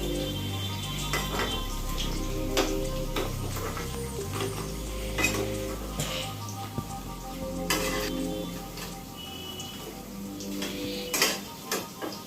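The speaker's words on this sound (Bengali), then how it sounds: "এগুলো আমার ভাজা হয়ে গেছে, আমি এগুলোকে তেল থেকে তুলে নেব।" Pakoras frying in hot oil sizzle steadily up close, with intermittent clinks and scrapes of a utensil stirring in the pan.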